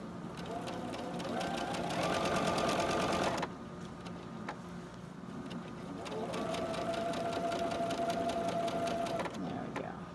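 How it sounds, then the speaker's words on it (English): A sewing machine stitching fabric with a changed presser foot runs in two steady buzzing bursts of rapid needle strokes, loud and close, separated by a short pause. "Now I'm going to sew it."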